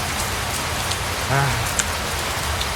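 Steady rain falls outdoors at Bueng Kaen Nakhon in Khon Kaen, with no shelter nearby, a dense, even patter throughout and a faint, brief voice partway through.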